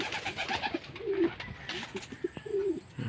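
Racing pigeons cooing inside a club training loft, several soft low coos repeating close by over faint background rustling.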